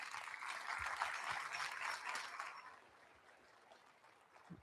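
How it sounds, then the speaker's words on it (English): Audience applause fills the main arena at the 2026 State Livestock Show, a dense, steady clatter of many hands for about two and a half seconds before thinning into scattered claps and room noise. "just give these guys a round of applause"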